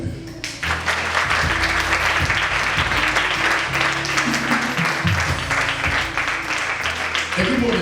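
A church congregation at a Dunamis worship service bursts into loud, sustained applause and cheering that fills the hall continuously, with shouts and voices mixed into the clapping throughout.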